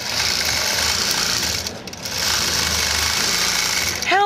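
A Statler Stitcher computerized quilting machine sews across a quilt with a loud, rapid, continuous mechanical chatter. The stitching briefly eases near the middle, then resumes at full pace.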